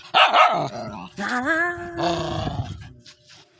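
A dog gives a couple of sharp barks, then a drawn-out whining, growly vocalization, close by with no talking.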